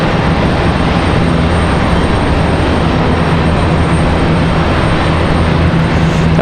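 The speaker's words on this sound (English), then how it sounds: "Beautiful A220 livery we've been waiting for." An Airbus A220 airliner at Raleigh Durham airport produces a loud, steady, broadband engine roar with a low tonal hum running underneath, constant throughout and free of speech.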